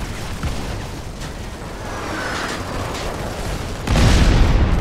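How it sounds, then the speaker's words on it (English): Bombs exploding during a Modern Combat 5 match, a low rumbling boom rolling under steady battle noise, with a louder, heavier blast landing near the end. "Bombs on the way."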